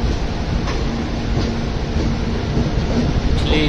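A Konkan Railway train runs steadily with a continuous rumbling roar and faint rail clatter, heard from on board, close and loud throughout.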